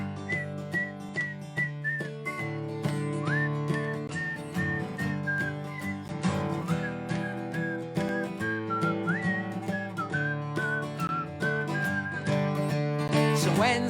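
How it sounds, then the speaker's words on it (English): Melodic whistling carries a children's song over steady musical accompaniment at a live family concert, with sustained whistled notes sliding between pitches throughout. "See if you can whistle with me."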